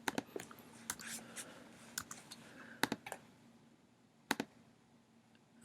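Quick bursts of keyboard typing, irregular clicks clustered in short runs with pauses, fairly close and moderately quiet over a faint steady hum.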